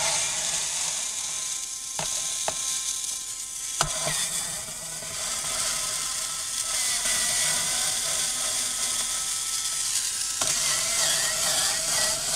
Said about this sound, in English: So let's remove all the screws.